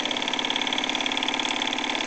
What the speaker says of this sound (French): Le vapeur pousse le moteur